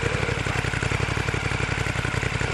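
A 2017 Ducati Monster 1200 R with a Termignoni exhaust idles close by, its engine giving a steady, lumpy pulsing throb with no other sound.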